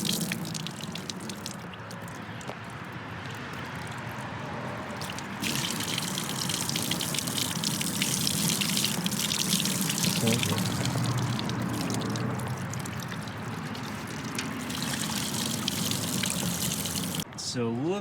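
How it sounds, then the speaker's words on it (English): Water poured from a bucket through a Jeep engine air filter splashes and gushes steadily for a long stretch, a continuous rushing pour with some dripping, fairly close and loud. "take this bucket of water and pour it slowly right through here"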